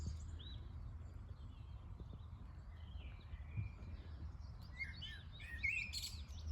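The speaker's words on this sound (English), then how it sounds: "Blackbird." A blackbird sings faintly at a distance in an outdoor nesting area near willow warblers, its brief phrases mixed with other birdsong above steady low background noise.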